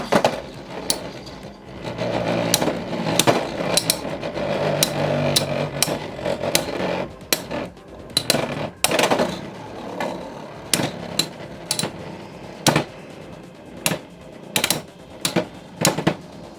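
Plastic Beyblade X spinning tops clash inside the Xtreme battle arena, with sharp rapid clacks and knocks repeating in bursts, some dense and loud, then sparser isolated hits toward the end.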